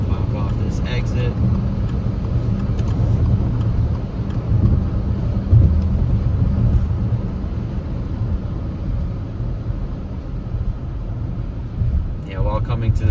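Car cruising on a highway and pulling off at an exit, a low continuous road and engine rumble with tire hum, fairly steady throughout and easing slightly toward the end.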